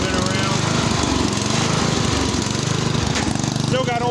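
A Ranch King riding mower engine idles and runs, still on old gas, making a loud, steady, rough mechanical chugging close by, with faint talk now and then.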